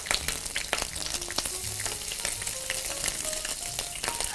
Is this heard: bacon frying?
yes